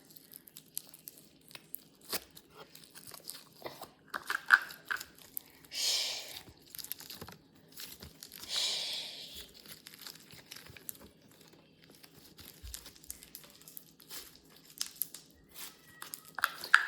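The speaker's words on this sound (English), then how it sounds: "first one is the butter slime, the earth butter slime. Let's play with it and rate the ASMR." Earth-themed butter slime is squished and poked up close, producing soft intermittent crinkles, sticky squelches and faint pops in scattered bursts against near silence.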